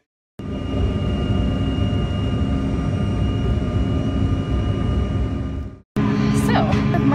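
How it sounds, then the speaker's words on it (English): Airplane cabin noise fills a passenger flight with a loud, steady engine roar and rumble, broken by one brief cut before the drone resumes. "My flight got delayed by 12 hours last night, and now I'm on the plane."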